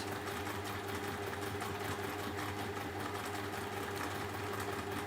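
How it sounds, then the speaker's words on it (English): A sewing machine top stitches around a cardigan, running at a steady fast mechanical hum and rapid needle rattle throughout, close and continuous with no talking. "So all I'm going to do is just top stitch around"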